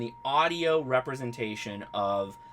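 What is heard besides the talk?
None of the usual background noises is heard.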